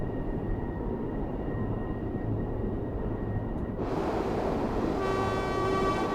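Train running sounds from Train Sim World 3 on the Edinburgh to Glasgow line: a steady, loud rumbling roll with a faint high whine, shifting to a brighter hiss midway, then sustained horn-like tones near the end.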